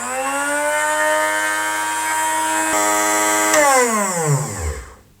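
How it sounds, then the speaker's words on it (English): A Pro Edge electric knife sharpener, its motor spinning a stone that grinds a knife edge: a loud, steady high-pitched whine for several seconds, then the pitch drops as it spins down and stops. "When you turn it on, the motor spins the stone super fast and it grinds away the edge of your knife."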